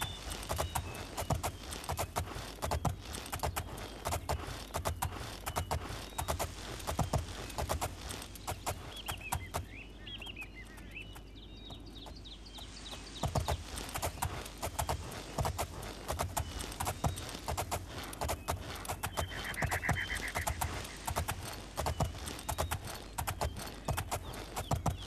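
Steady clip-clop of horse hooves in the video game Oblivion, rhythmic and close, continuing throughout with a brief quieter stretch in the middle.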